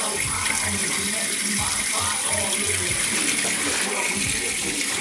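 An alkaline water ionizer machine runs water in a continuous splashing stream, with faint mechanical clicks and ticks underneath.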